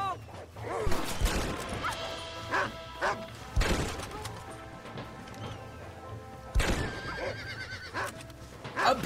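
A horse in the video game Red Dead Redemption neighs loudly several times, sharp whinnies spaced apart over a low background of game sounds and clatter.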